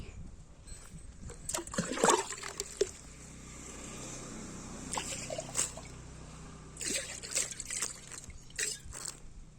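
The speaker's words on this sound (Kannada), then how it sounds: "ಇಲ್ಲೊಂದು ಸ್ವಲ್ಪ ಧೂಳಿತ್ತು ಹಾಗಾಗಿ ನಾನು ನೀರು ಹಾಕ್ತಾ ಇದ್ದೀನಿ" Water poured from a container onto dusty ground lands in several separate splashing bursts, close by, with soft trickling and dribbling between them against a quiet outdoor background.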